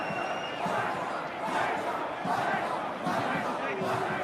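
A football crowd at a Perth Glory v Melbourne City A-League match, whistling and jeering in disapproval during a slow double substitution, a broad continuous roar from the stands that swells in waves.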